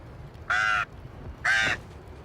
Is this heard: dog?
no